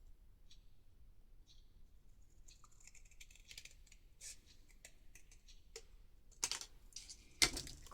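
Scissors cut through leftover scraps of card at a crafting table, with quiet snips and paper rustles scattered over several seconds, then two sharper, louder cuts near the end; no talking.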